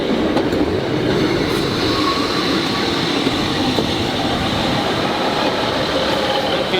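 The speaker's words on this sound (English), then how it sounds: "Will you give us a wave as the train leaves?" A train rumbles steadily nearby as it departs Corrour station, a constant heavy rolling drone with faint rail clatter as it pulls away, no voices.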